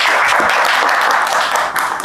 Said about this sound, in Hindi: चलिए आशुतोष सर के लिए भी तालियां